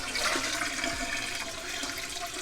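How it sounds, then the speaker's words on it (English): Hot sink tap water pours steadily into a pot holding jars of cranberry sauce, a continuous, fairly quiet rushing splash with no talking. "The water that I am adding from the sink is hot to the touch."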